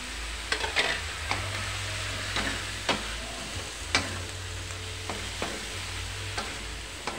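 Chayote sautéing in a pan with shrimp and shrimp heads: a steady frying sizzle broken by repeated scraping stirs, close and alone with no talk.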